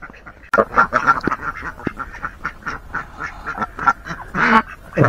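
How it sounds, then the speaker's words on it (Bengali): Ducks on a Bangladeshi village duck farm quack repeatedly in overlapping calls, loud and near, with a busy flock chorus throughout. "দেখেন ভাগে ভাগে এখানে হাঁস পালন করতেছে"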